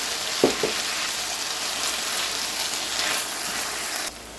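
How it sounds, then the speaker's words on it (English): Onions fry in a pan for homemade tomato pasta sauce with a steady, close hiss and crackle that stays even throughout. A few soft clunks come near the start, and the sizzle drops away sharply right at the end. "Add our onions. And we're just going to let that cook down for about 2 to 3 minutes"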